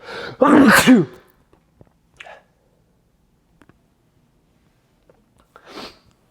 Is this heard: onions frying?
no